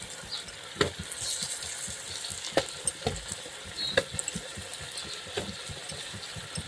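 Spice-stuffed brinjals stirred in a pot in a home kitchen, a steady low sizzle with scattered spoon scrapes and clicks against the metal, close and fairly quiet, with no talking.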